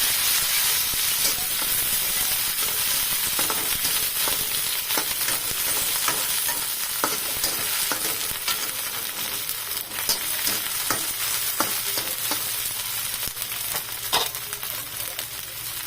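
Oil in a pan while frying Chinese-style pancit bihon, giving a continuous dense sizzle and hiss with scattered clicks and scrapes, close and steady throughout, no voices.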